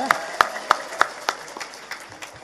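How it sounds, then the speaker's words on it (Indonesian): An audience at an Islamic religious gathering in West Java applauding, with a handful of sharp, spaced claps close by that fade out over a couple of seconds. "Tepuk tangan dulu luar biasa."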